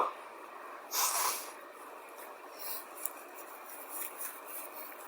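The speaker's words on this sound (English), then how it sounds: "give me a second to blow my schnoz" A person blowing their nose, a short loud nasal honk near the start followed by fainter sniffing and rubbing noises, recorded close up in a quiet room.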